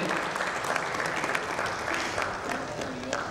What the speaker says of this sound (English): A big round of applause to Mr. Deshpande.